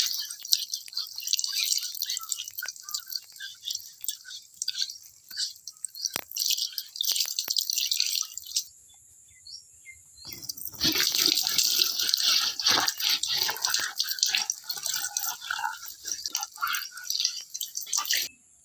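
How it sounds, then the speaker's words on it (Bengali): Tap water runs and splashes steadily while a cutting board is rinsed under it, with a brief pause near the middle before the flow resumes. "তো আমরা এবার কাটিং বোর্ডটা ধুয়ে নিচ্ছি"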